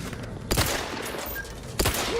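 Gunfire in The Outer Worlds 2 during a combat encounter: two sharp, loud bursts of shots about a second apart over a steady background of game ambience, with no talking.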